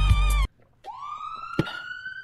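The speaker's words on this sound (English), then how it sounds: "Can you play the ambulance sound, please?" After a short burst of another sound cuts off, an ambulance siren sound effect played on request rises into a sustained wailing tone, fairly loud and alone with no talking, interrupted by a brief knock partway through.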